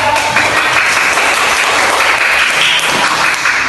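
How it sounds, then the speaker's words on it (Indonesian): Steady, dense applause from a classroom of students fills the whole stretch at close range, loud and continuous with no talk over it. "Kasih tepuk tangan dulu"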